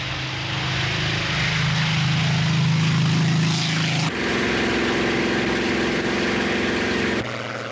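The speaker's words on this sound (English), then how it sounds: "There was the Spitfire, perhaps the most glamorous of all the Second World War fighters." Second World War Spitfire fighter flying overhead, a loud, droning propeller engine roar that shifts pitch abruptly partway through and stays strong until a sudden cut near the end.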